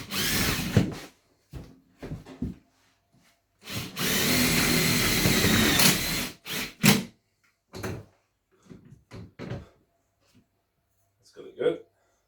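A power drill runs in short bursts and one long, loud stretch while a Triton wood rack is fixed to a workshop wall, with some speech-like sounds and knocks between the bursts.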